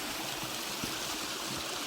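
A mountain stream runs above a two-tier waterfall on Gwanaksan. Water rushes in a steady, close, continuous wash, with a few soft low gurgles underneath.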